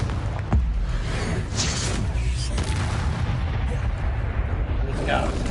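A Confringo fire spell is cast repeatedly in Hogwarts Legacy on PS5, making dense booming blasts and crackling bursts that run continuously through the clip with game combat noise.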